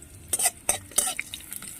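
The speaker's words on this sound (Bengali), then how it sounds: "ফোড়নটা একটু হালকা ভেজে নিচ্ছি" A spoon scrapes and clinks against a pan while spices for tempering are lightly fried, in a few quick stirring strokes over a faint sizzle, close and brief.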